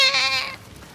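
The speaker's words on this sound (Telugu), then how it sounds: "మేకలు" A goat gives a single nasal, wavering bleat on a misty early morning in a village. It is fairly close and loud, then fades into quiet background.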